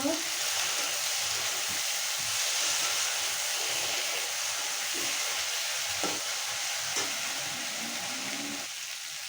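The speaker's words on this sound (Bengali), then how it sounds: "মশলার সাথে আমি কচুমুখিটা ভালো করে ভেজে নেব" Taro (kochu mukhi) frying with spices in a pan, a close, steady hiss and sizzle that runs throughout, broken by occasional light scraping knocks of stirring.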